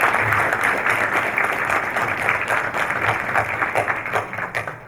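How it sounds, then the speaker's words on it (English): An audience at a developer conference talk applauds after a presentation, a dense steady wash of clapping from many hands that holds for several seconds. "Big round of applause, first of all."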